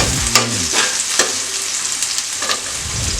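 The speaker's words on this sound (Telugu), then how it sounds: "ఈ ఉల్లిగడ్డ మిర్చి మొత్తం లైట్ బ్రౌన్ కలర్ వచ్చే వరకు మనం దీన్ని కలుపుతూ" Onions and green chillies sizzle loudly in a pan for a purslane and tomato curry, with repeated scraping stirs cutting through the close, steady frying and no one talking.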